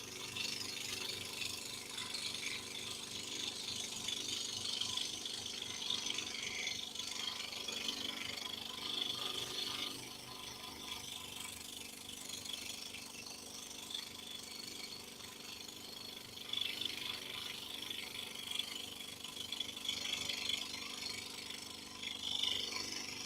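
A small power saw cuts wood along a paper pattern glued on with spray adhesive, a continuous close buzzing and rasping that wavers in intensity over about twenty seconds, with no talking.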